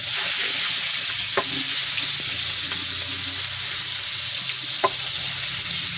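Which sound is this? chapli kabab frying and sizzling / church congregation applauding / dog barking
chapli kabab frying and sizzling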